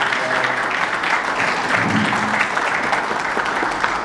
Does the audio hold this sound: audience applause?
yes